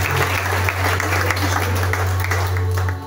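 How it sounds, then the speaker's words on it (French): An audience at a Christian spiritual retreat teaching bursts into dense, sustained applause, loud and close, with a steady low hum beneath the clapping. "Tes applaudissements pour l'encouragement."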